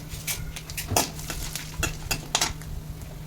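Cumin, garlic and turmeric, along with other tempering spices, fry in a pan for a Telugu chikkudukaya stir-fry, giving a steady near sizzle broken by repeated sharp clinks and scrapes of a metal spoon against the pan.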